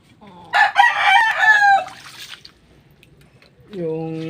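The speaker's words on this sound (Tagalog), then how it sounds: "Saka tumitilaok na rin sila." Six-month-old young roosters crow in rough, breaking calls: one loud crow right away, then a second cleaner crow a couple of seconds later, close by, with quiet clucking and a light background of rain.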